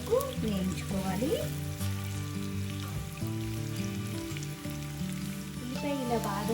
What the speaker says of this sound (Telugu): ఉల్లిపాయని లైట్ బ్రౌన్ కలర్ వచ్చే వరకు వేయించుకోవాలి